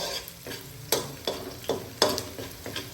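Garlic and onion sizzle in a pan for Filipino-style spaghetti, with a steady fry underneath and a series of regular scraping strokes from a stirring utensil, close and fairly loud.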